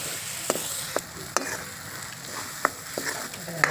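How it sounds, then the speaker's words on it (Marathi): Ground spice paste (vaatan) being fried in a pan for a home-cooked dafal vegetable dish: a steady close sizzle, with sharp scraping clicks from stirring about every half second to second. "आता आपण हे वाटण चांगलं तळून घेणार"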